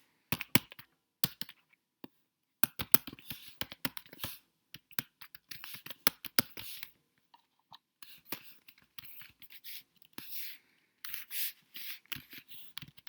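Typing JavaScript code on a computer keyboard, bursts of rapid close key clicks with short pauses between runs, fairly quiet and with no talking.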